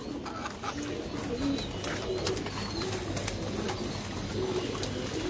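Pigeons coo steadily at a farm in Mirpur, Dhaka, with soft overlapping calls repeating through a continuous, fairly loud flock murmur.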